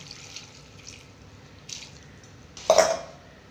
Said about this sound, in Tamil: தண்ணி ஊற்றி